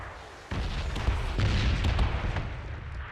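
Red zone bombardment in the battle royale game PUBG: after a quiet start, a low rumbling barrage of booms and blasts rolls in continuously, heavy and fairly distant.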